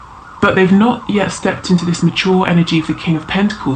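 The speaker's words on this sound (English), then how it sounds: "Sorry about the sirens." Emergency sirens wail outside, a rising and falling tone running under close, continuous speech from a woman.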